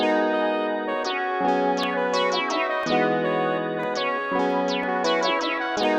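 Two synthesized lead melodies play together over an FL Studio trap beat in a wavy style, bright layered tones with effects and chorus, steady rhythmic pattern with periodic drops in the low end, loud and continuous with no talking.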